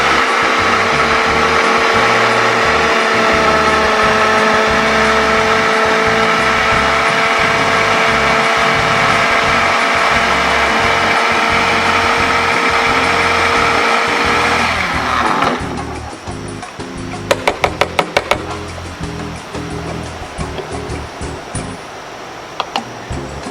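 A Ninja blender roars steadily at high speed for about fifteen seconds, then cuts to a lower, rattling churn with sharp clicks and clatter near the end as the mixture stalls.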